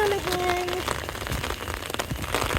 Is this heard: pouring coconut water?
no